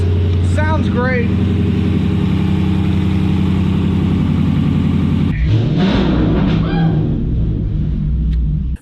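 A swapped-in 6.1L Hemi V8 engine idles with a deep, loping rumble, then revs up sharply before settling, while someone talks briefly near the start.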